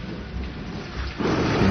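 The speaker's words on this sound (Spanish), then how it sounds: "una fuerte ráfaga de viento abrió la puerta principal. Las hojas secas y la lluvia irrumpieron en el vestíbulo" Storm effect of heavy rain and rolling thunder with gusting wind, a steady wash of downpour that swells louder toward the end.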